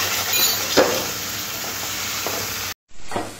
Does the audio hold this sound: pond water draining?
no